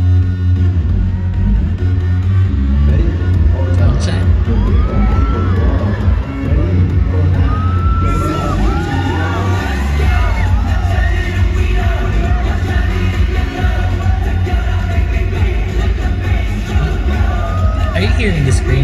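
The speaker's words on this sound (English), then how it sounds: "I can hear the screams of the fans." Continuous crowd noise with scattered screams and yells from a large K-pop concert audience, sustained and dense throughout, with some voices rising above the roar.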